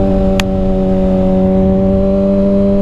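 A 2021 Kawasaki Ninja ZX6R KRT Edition motorcycle engine drones steadily and loudly on a night ride, its tone holding fairly constant rather than climbing hard, with one brief click early on.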